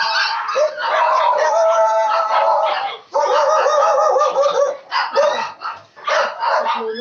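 Excited voices talk almost continuously, and a dog's barks seem mixed in, hard to pick apart from the chatter.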